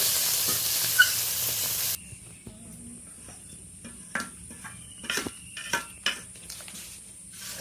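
Small pond-caught mola carplet fish fry in a pan until red and crisp, with a steady hiss of oil that drops to a softer sizzle, broken by light pops and crackles.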